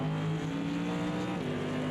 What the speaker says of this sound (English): It's a classic sound, in my opinion, that Mercedes power engine.